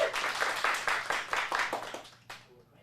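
A small group at an acting studio claps in a short burst of roughly rhythmic, close handclaps that thins out and fades after about two seconds, ending with one final clap.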